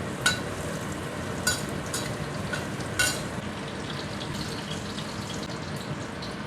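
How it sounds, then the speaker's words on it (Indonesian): Eggplant fries in oil with a steady, dense sizzle throughout, broken by occasional louder spatters and stirring clatters, close and continuous. "ini terongnya aku goreng sekilas ya"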